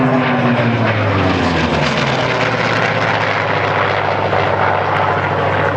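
A propeller airplane flies low and loud over the La Ferté-Alais airshow, its engine a steady, heavy drone with a rough throbbing buzz that holds for several seconds.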